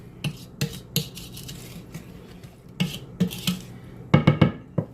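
Spoon clinks and scrapes against a pot while peach cobbler filling with cinnamon is stirred, in several separate bursts with a quick cluster of knocks near the end.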